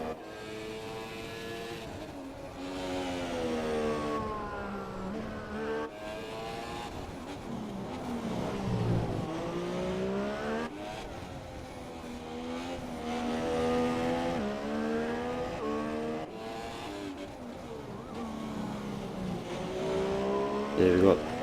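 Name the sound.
GP3 race car engine in a racing video game, Brazil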